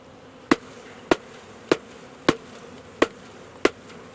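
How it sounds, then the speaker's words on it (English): Bees being shaken and dumped into a new hive, heard as six sharp, evenly spaced knocks about half a second apart over a low, faint background hum. "And dump more bees."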